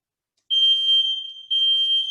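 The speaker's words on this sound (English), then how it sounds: "I got interrupted by the buzzer" A shrill, steady electronic alarm tone sounds in two long blasts with a brief dip between them, loud and close.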